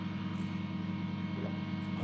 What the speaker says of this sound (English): That humming noise you can hear is the micro welder